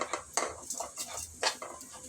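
A metal spatula stirs pulao in a pot, making close, irregular clinks and scrapes against the metal, with a few sharper knocks and no talking.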